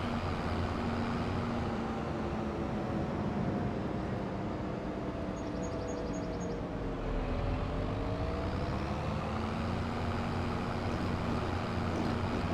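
A tractor in Farming Simulator 25 drives along a road. Its engine gives a steady, droning hum that holds at one level the whole way, and the pitch slides gently as it runs.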